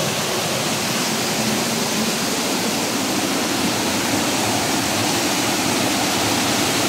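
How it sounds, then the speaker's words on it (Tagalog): Heavy rain pours steadily through a forest, a dense, loud, unbroken hiss close by with no voices, like a downpour swelling during a solo hike where rising floodwater is near. "Palakas na ng palakas yung ulan guys"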